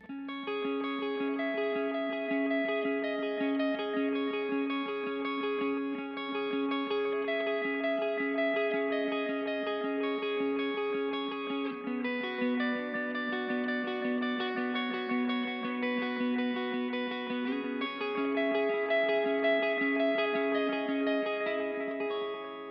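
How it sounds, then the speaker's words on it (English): An electric guitar plays through the echo setting of a Donner Triple Threat pedal, sustained notes and chords trailing repeating delayed copies, steady and clear with no talking. "Try the echo."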